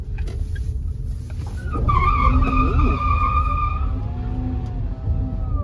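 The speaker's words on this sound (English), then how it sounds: "this will skid its tires like crazy" The tires of a Dongfeng Forthing Friday electric crossover in sport mode squeal in a sustained, loud skid over a steady road roar, rising partway through and holding to the end.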